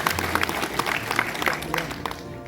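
An auditorium audience at a formal event gives loud, dense applause that fills the room without a break and fades slightly toward the end.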